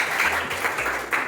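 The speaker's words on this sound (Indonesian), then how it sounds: "Berikan tepuk tangan buat diri kalian sendiri" A brief burst of applause from schoolchildren in a classroom clapping for themselves, dense and close, lasting about a second with no speech over it.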